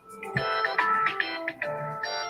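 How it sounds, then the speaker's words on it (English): A mobile phone rings nearby with a bright electronic melodic ringtone playing continuously in repeated tonal phrases, with no talking over it. "I'm sorry, my phone is ringing."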